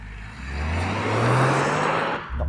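A hot hatch accelerates hard through a 0 to 60 run, its engine note climbing steadily in pitch as revs build, loud and close, with a brief dip near the end for a gear change before pulling again.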